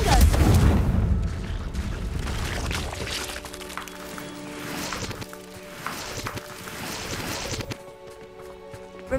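Confringo blasting spell explosions in a Hogwarts video game: a loud booming burst at the start, then a sustained rumble and crackle of game effects fading beneath a steady tonal music bed.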